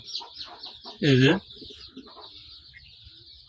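A pigeon in a dark homemade bamboo coop for fancy pigeons gives one short, loud, close call amid quieter rustling and soft chatter, with someone speaking nearby.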